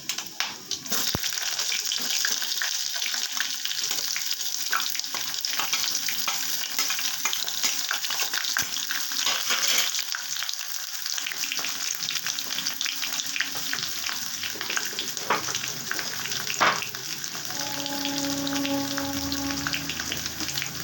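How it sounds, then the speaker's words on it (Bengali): Chopped onions fry and sizzle in a pan with garlic, a steady loud crackling hiss that runs throughout with occasional stirring scrapes. "এবার দিয়ে দিচ্ছি পেঁয়াজ কুচি।"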